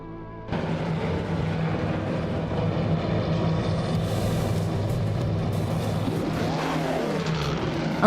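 Race cars, among them a classic 1957 Maserati, start a race at a circuit. A loud, continuous engine roar kicks in after a brief quieter moment and stays dense and sustained, with revving swells toward the end.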